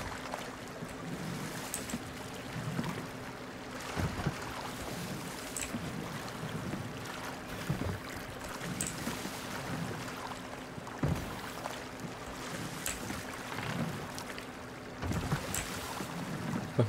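Rowboat drifting on ocean waves in the video game Sea of Thieves, with a steady wash of water and periodic sloshing surges and splashes against the hull, continuous and fairly close, no talking.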